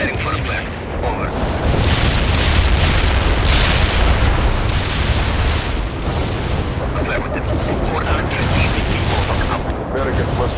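Artillery fire for effect in the war game World in Conflict: a loud, continuous barrage of heavy booms and rumbling blasts rolling on for several seconds, with voices heard under it.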